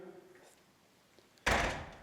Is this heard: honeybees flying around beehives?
no